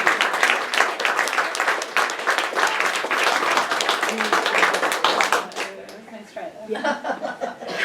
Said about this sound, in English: Bethany Green, please give a round of applause for her.